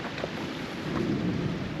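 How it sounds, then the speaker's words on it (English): Low rumbling thunder from an approaching thunderstorm beside a river, rolling steadily and swelling slightly toward the end over a constant hiss of rain. "there's a thunderstorm chasing us too"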